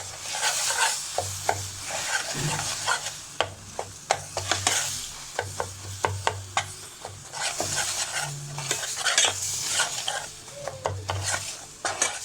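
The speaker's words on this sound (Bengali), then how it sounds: "হুইপ ক্রিমটাকে ক্যারামেলের সাথে ভালোভাবে মিশিয়ে নেব।" Whipped cream being stirred into hot melted sugar caramel for popcorn in a pot, with a steady sizzle and frequent spoon scrapes and knocks against the pan, close and busy, no voices.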